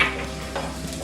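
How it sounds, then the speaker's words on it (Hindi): Green chillies sizzle and crackle in hot oil in a pan while egg bhurji is cooked, a steady close frying hiss with a few light stirring clicks, no voices. "तेल गरम हो गया है। अब हम इसमें हरी मिर्च डाल देते हैं।"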